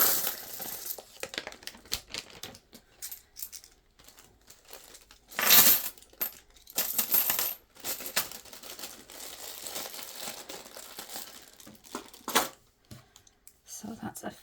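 Pennies being counted and dropped into a bag make small clinking and rattling bursts at close range, scattered irregularly among handling rustle and crinkling.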